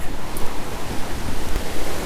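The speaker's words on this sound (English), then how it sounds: "So it's a good sized creek." Bishop Creek, a good-sized stocked trout stream below a dam in Bishop, California, rushes steadily in a loud, broad, continuous wash of flowing water with no voices.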